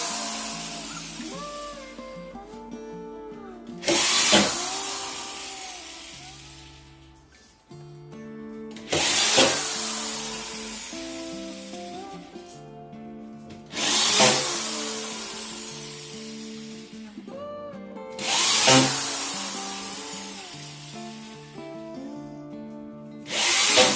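An Einhell TH-DY 500E corded drywall screwdriver runs in four separate bursts, each spinning up with a rising whine that holds briefly and then winds down, close and loud with no talk.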